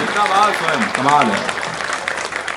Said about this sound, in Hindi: एक बार पूरा सदन दोनों हाथ उठाकर तालियां बजाकर मुझे आदेशित करें